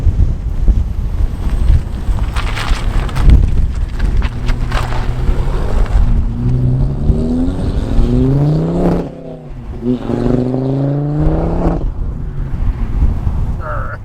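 A Stage 2 Collins Performance Ford Focus ST pulls away, its engine note rising through several gears in steady sweeps, heard loud from inside the cabin over heavy wind rumble.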